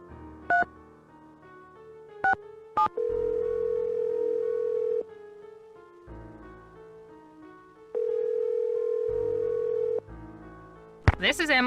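A telephone in a Nancy Drew mystery game gives keypad beeps, then a steady dial tone and long ring tones in separated bursts, with a voice speaking as the call connects at the end.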